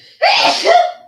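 A single loud sneeze close by, one sharp burst of about a second that fades into a short breathy tail.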